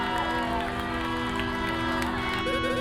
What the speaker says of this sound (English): So we got the whole club cheering us on